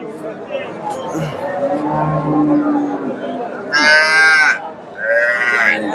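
Cattle moo and low grunts rise over a busy outdoor cattle market crowd, with a sharp loud bellow near the end amid chatter and people talking.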